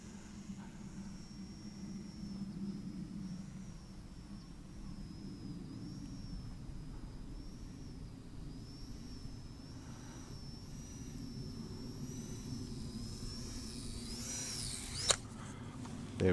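A Skynetic FW190D9 model airplane comes in to land, its electric motor a faint, steady high whine drifting at a distance, ending with a brief sharp knock near the end.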